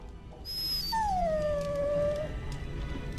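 A dog in the Dragon Age Origins video game lets out a single drawn-out whimpering whine that slides gently downward, close and clear over a low game background.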